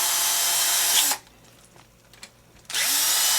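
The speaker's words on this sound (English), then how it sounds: "remove the 2 top screws off of the rear transmission plate" A power drill backing long screws out of a rear transmission plate, whirring loudly at close range for about a second, pausing briefly with faint rattles, then spinning up again; no talk.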